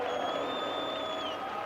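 A crowd cheers at a 1980 WVU vs Penn State college basketball game, a steady wall of roaring voices and whoops filling the whole moment without a break.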